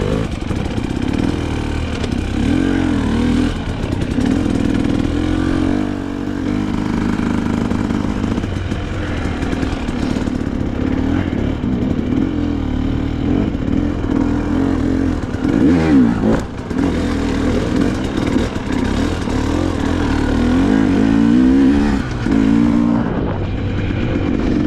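A dirt bike is ridden along a single track trail near Moab, Utah, its engine droning and revving continuously at close range, rising and falling with throttle changes over rough ground, with rattles and clatter mixed in.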